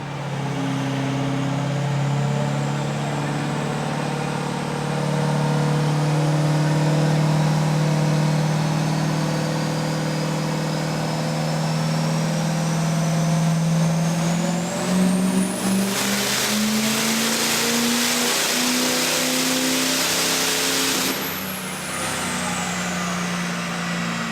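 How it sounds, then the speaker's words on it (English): A 2004 Ford F250 with a 6.0-liter Power Stroke diesel and three turbochargers pulls hard on a dyno at a diesel power competition, engine roar climbing steadily with rising turbo whine, then a loud high-pitched burst before easing off. "This is a 2004 F250 with a 6-liter Power Stroke in it."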